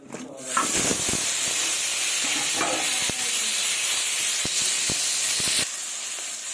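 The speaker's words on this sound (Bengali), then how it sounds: "এবার কড়াইয়ে ওই তেলেই আমি আলুগুলো ভেজে নেব" Loud, steady sizzle and hiss of potatoes frying in oil in a kadai, with sharp clicks of a utensil stirring now and then.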